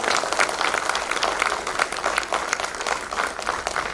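An audience at a trauma course and mass casualty workshop breaks into dense, sustained applause, many hands clapping close together in a continuous rattling wash.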